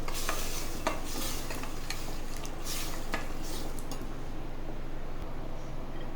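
A spoon scrapes and clinks in a pot as gram flour is stirred into a sizzling potato and onion curry, with a continuous close hiss under rhythmic stirring strokes and no talking.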